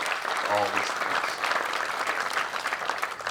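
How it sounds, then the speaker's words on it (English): Steady, fairly loud applause from an audience at an outdoor hemp field day gathering, many hands clapping continuously, with a brief voice heard near the start. "let's give everybody another round of applause that's involved in the universities, the KDA, all these things"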